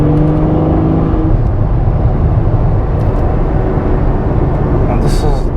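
Ferrari F12 Berlinetta V12 engine in race mode, a steady loud droning cabin rumble at low speed, held throughout with no clear revving peaks.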